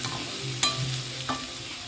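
Red carrots sauté in hot oil in a pan with a constant close sizzle, broken by two brief scraping stirs.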